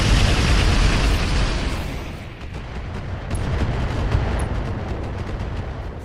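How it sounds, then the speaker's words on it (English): Weapon effects from a MechWarrior 4 mod in a BattleTech video game: a loud, roaring blast that slowly decays, followed by a steady crackling barrage, with no talk. "sound effects from Mech Warrior 4 for missiles, lasers, and particle cannons and Gauss rifles"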